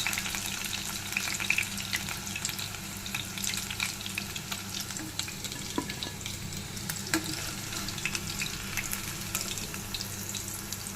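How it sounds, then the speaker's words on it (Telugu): Chicken pieces fry in oil in a pan with a dense, crackling sizzle, steady and close throughout, with faint scrapes and pops over the bubbling. "ఇలా వేగితే సరిపోతుంది చికెను."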